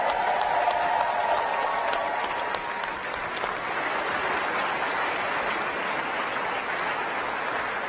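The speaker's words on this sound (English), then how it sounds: "Let's give them another round of applause." Sustained applause from a large crowd at the live Artemis II astronaut announcement event, loud and steady across the whole stretch, easing slightly midway and then continuing without talk.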